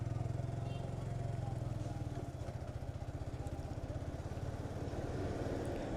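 A motorcycle rides along a sunny Dhaka road, its engine a steady low putter running throughout, close and continuous with some road noise around it.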